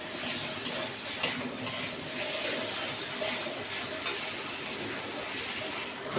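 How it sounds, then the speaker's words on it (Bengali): Potatoes and katowa data vegetable stalks, coated with turmeric and salt, stir-fry in a hot pan, giving a steady close sizzle with brief scraping stirs throughout and no talking. "আমি হলুদ, লবণ সব একবারে দিয়ে ভালো করে আলুটাকে, ডাঁটাটাকে ভালো করে মশলার সাথে মিশিয়ে দেব"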